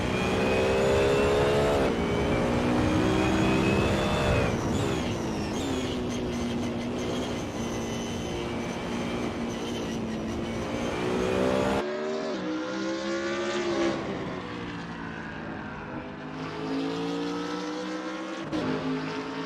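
GT3 race cars, among them a BMW Z4 and a Porsche 911 GT3R, scream around the Spa circuit in the racing game Assetto Corsa, engines loud and continuous with shifting pitch as cars rev, upshift and pass close by.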